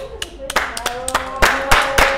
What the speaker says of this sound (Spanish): ¡Aplauso a Job!